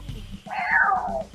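A person imitates a cat's meow, giving one drawn-out, raspy, wheezy mew that rises and falls, close and fairly quiet, over a soft low background hum.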